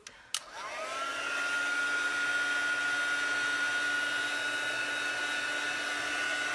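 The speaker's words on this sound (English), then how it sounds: "I'm just going to do some heat embossing." A click, then a heat gun used for heat embossing whirs up to a steady, loud blowing drone that holds constant to the end.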